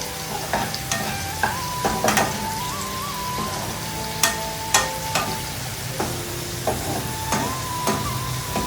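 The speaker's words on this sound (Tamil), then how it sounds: "ரெண்டுத்துக்குமே நல்லா வெங்காயம் வதங்கணுங்க." Onions and green chillies frying in a pan for biryani, a steady sizzle broken by intermittent clinks and scrapes of a spatula stirring, with a faint tonal hum in the background.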